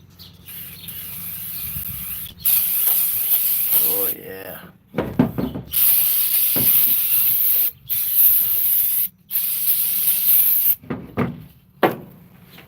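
A part is sprayed off during a repair job: several long, loud, close hissing bursts of spray with short gaps between them, and a person briefly speaks partway through.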